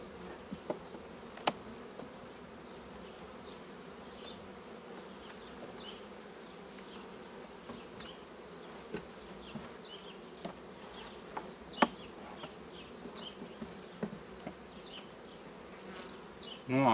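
Honey bees hum steadily around an open beehive during a frame inspection, a dense low buzzing drone with individual bees whizzing past close by and occasional soft knocks.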